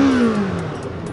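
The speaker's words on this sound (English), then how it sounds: "let me hear you rev your engine one time for me." A motorcycle engine at a Bike Week beach gathering revs once, loud and close, its pitch sweeping downward as the roar quickly fades in a brief burst.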